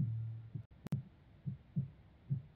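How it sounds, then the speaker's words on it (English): A video game heartbeat thumps in slow, regular double beats, low and muffled, repeating steadily across the moment with a brief sharp click interrupting early on. "Heartbeat's increasing."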